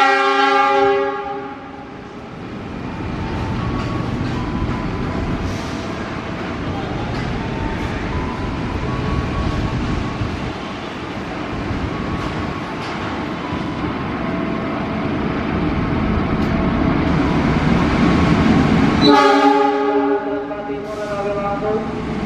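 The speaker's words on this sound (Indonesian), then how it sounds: "melintas kereta api langsung menuju Gambir." The Argo Parahyangan passenger train passes close by in Indonesia, sounding a loud multi-tone horn at the start and again near the end, with a steady rumble of wheels and cars rolling through in between.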